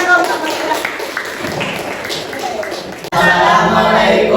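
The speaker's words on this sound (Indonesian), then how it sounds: "Sekali lagi tepuk tangan dong sama kita." An audience of students claps after a class presentation, a dense, fairly loud patter of hands that cuts off abruptly, followed by speech in the room.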